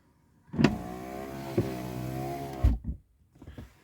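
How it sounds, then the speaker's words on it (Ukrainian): A Tesla Model 3's repaired door power window motor hums steadily for about two seconds with an odd sound, starting and stopping with soft thunks, close by and fairly quiet. "І тепер склопідйомник працює. Тепер який у нього звук дивний."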